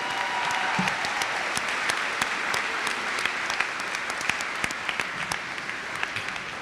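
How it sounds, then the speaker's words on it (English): A graduation ceremony crowd gives sustained applause for the event organizer, many hands clapping evenly with sharp individual claps standing out, moderately loud and unbroken. "Please give Miss Lane a huge round of applause"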